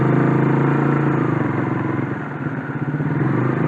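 A motorcycle engine runs steadily at close range as it is ridden, with a constant mid-pitched drone and light mechanical clatter, on the road around Lembang and Ciater.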